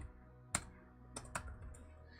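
Computer keyboard typing while someone codes a chat bot roulette game: a few sparse, separate key clicks, with one sharper tap and a couple of softer ones against a quiet background.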